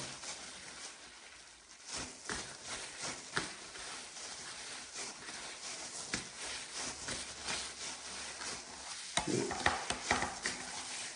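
Hand-chopped minced pork is gently squeezed and kneaded by gloved hands for Isan-style sour pork sausage, giving soft wet squelching and slapping sounds at close range with irregular rhythm, and no talking.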